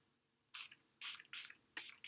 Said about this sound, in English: So I'm just gonna spray that.